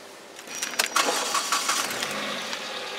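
Used car engine cranking and catching, a short whirring start that settles into a fairly quiet idle, close by.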